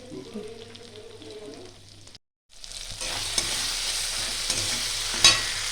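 Chicken do pyaza masala frying in a pan and being stirred, with a close sizzle and scraping strokes that turn louder and busier after a short gap, with little talk.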